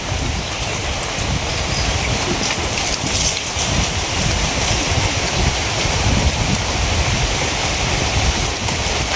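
Heavy rain pours continuously, a loud, dense hiss of drops striking surfaces all around, steady throughout without any voices.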